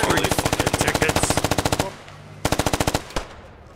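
Automatic gunfire in the Fortnite video game, a long fast burst of evenly spaced shots, then a pause and a shorter burst with one last sharp shot, loud and close.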